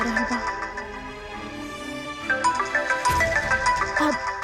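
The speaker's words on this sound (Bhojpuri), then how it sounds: "डॉक्टर साहब के फोन आ रहा बा" A phone ringtone plays a repeating melodic tune, fairly loud and close, with a voice briefly heard under it.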